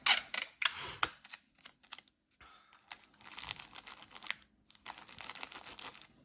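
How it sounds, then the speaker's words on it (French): Sticky tape being pulled off a roll and pressed down by hand during an unboxing, giving close, crackly tearing and crinkling bursts in irregular spurts with short pauses between. "Je mets du papier collant comme ça."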